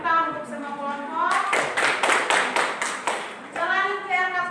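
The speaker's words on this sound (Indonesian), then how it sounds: "tepuk tangan untuk semua kelompok" Classroom clapping for all the student groups, a burst of about two seconds of rhythmic hand claps between stretches of a teacher's voice.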